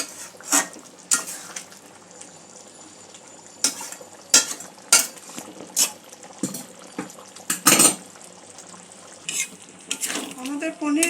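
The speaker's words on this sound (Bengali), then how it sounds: "সব কিছু আরও একবার ভালো করে নাড়াচাড়া করে নেব" A spoon scraping and knocking through a creamy North Indian paneer curry in a pan, in repeated clattering strokes over a soft simmer between them.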